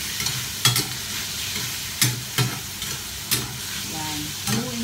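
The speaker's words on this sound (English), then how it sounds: "Yan, haluin ng haluin hanggang sa maluto." Marinated shredded chicken, coated in soy sauce, sugar and a little cornstarch, stir-fried in oil, giving a steady close sizzle broken by sharp scraping clatters of the spatula against the pan at uneven intervals, with no talking.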